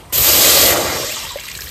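Water splashes into a kadai on a lit stove in one sudden loud gush, then tapers off into a softer fizzing trickle.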